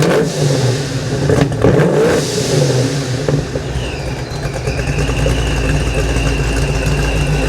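A supercharged 347 Foxbody V8 with a Holley Super Sniper revs up loudly with a couple of throttle blips, then settles into a steady, rough, rumbling high idle, close to the exhaust.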